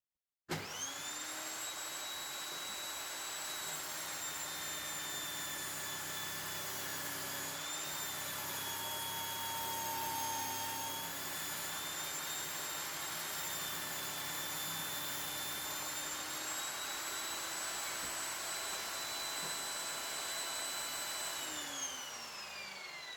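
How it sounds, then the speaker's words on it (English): An Evolution table saw rips through 2-inch-thick timber with a loud, steady high motor whine that holds for about twenty seconds, dipping slightly under load midway before winding down. No one speaks. "let's run a bit of timber through this saw and let's see if we can actually cut."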